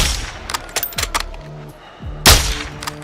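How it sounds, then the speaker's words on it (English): Scattered cartel gunfire in Modern Warfare 2 cracks out in sharp, separate shots and short bursts, some distant and one louder close report near the end, with quiet gaps between them. "Sir, they're returning fire"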